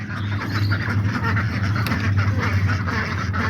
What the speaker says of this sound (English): There you can see all the ducks too.